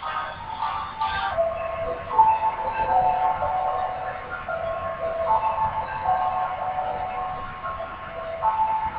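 A train rumbles steadily along rails with a continuous low roar, bumping and rhythmic vibration, and faint metallic tonal squeals and clinks riding on top throughout.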